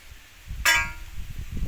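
A single sharp metallic clang as a tool strikes while hammering, ringing briefly before fading, heard once over quiet background with faint low thumps around it.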